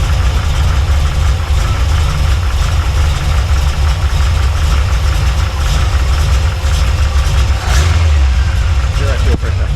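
A Holden Astra engine running loud and close, a steady rough idle with low rumble that swells briefly when revved, continuous throughout.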